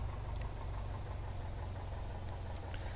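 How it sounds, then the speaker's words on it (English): Light aircraft engine idling during a pre-takeoff run-up, a steady low throbbing drone with a rhythmic pulsing beat, close and continuous throughout with no talk. "You want to make sure the engine holds in idle."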